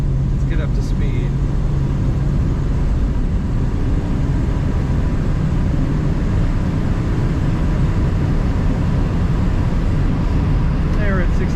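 A 1968 Ford Mustang Sprint two-door hardtop accelerating to highway speed, heard from inside the cabin as a loud, steady low engine and road drone with no pauses throughout.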